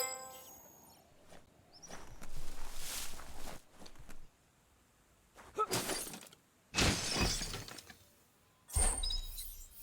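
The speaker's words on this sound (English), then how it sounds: "You shouldn't worry about smashing up the box." A box is smashed in the video game Biomutant. Several loud bursts of crashing and shattering come in irregular bunches, with quieter gaps between them.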